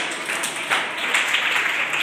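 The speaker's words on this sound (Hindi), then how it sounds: "जोरदार ताली बजाइए सर।" Applause at a school Children's Day celebration at St Francis School, Indara Mau, steady crowd clapping that holds evenly for about two seconds with no talk over it.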